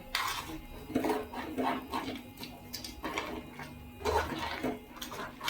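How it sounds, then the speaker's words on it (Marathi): A spoon scrapes and knocks around a pot as ground coconut, chilli and coriander masala paste is stirred into a mud crab curry, a series of soft clatters and scrapes at close range with no voices. "तर हे आपण वाटण टाकून घ्यायचंय आणि थोडं मिक्स करून घेऊया."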